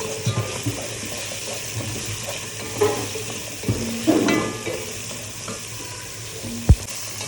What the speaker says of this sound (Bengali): দিচ্ছি আলু আর কাঁঠালের বিচিটাকে। এটাকে একটু ভালোভাবে একটু কষে নিব।